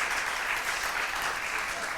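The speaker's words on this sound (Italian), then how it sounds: "Un applauso." Audience applause after a contemporary Venetian masks theatre performance, a full, even wash of clapping from the crowd that continues steadily and slightly fades toward the end.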